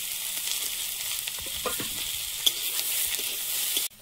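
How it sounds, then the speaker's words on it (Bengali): Dried chillies, crushed garlic, tomato and slit green chillies fry in a little oil, making a steady, close hissing sizzle with faint crackles throughout, then cutting off abruptly at the end. "অল্প একটুখানি তেল দিয়ে শুকনো লঙ্কা, থেতো করে রসুন, টমেটো, চেরা কাঁচা লঙ্কা"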